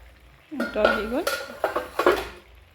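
A metal lid clanks and scrapes against a pot of boiling mustard fish curry a few times, sharp ringing clinks close by, with no talking.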